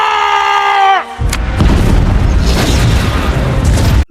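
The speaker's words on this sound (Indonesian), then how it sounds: "komandan pasukan militer Cina itu menembak rudal ke area tersebut" A missile fired by a Chinese military force strikes a factory area in a film. A falling whistle gives way to a sudden, very loud boom, then a long, heavy roar of blast and rumbling debris.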